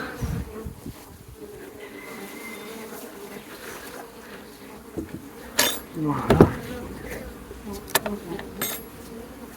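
Honey bees buzz steadily nearby in a droning hum at an apiary, with a few knocks and bumps in the middle and someone briefly speaking.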